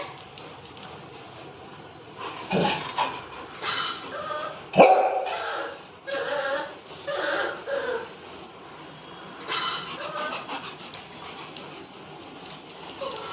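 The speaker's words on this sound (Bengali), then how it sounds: "কুকুরের বাচ্চার আওয়াজ শোনাচ্ছে" A puppy gives a string of high, sharp barks and yips close by, spaced irregularly with soft whimpering in the quieter gaps.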